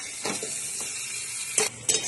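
Fish heads and chopped potatoes frying and being stirred in a pan for a Bengali murir ghonto, a steady soft sizzle broken by a few scraping clinks of the spoon against the pan, close and without talk.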